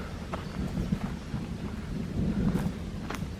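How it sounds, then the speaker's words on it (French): A low, rolling rumble of thunder from an outdoor thunderstorm continues through the clip, with light rain patter and faint crackles over it. "Voilà, il y a de l'orage."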